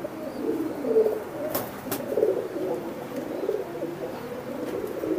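Imported Teddy pigeons coo in low, rolling, repeated phrases. They are close and moderately loud over a soft background hum, with a couple of sharp clicks partway through.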